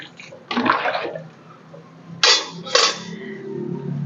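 Hot water poured in bursts into a pot of mutton biryani, three short splashing gushes separated by pauses over a low background hum.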